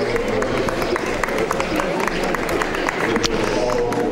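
Arena crowd at a world weightlifting championship, 94 kg class, applauding and cheering after a failed snatch attempt, a steady dense wash of clapping and voices throughout, fairly loud and continuous.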